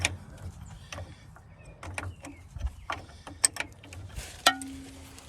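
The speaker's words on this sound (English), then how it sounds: "Now I'm backing this lock nut up a long ways too to do the same thing." A wrench works a lock nut on the brake of a TD9 crawler dozer: faint, scattered metallic clicks and ratcheting taps at close range, with a few sharper clinks and a brief ringing tone near the end.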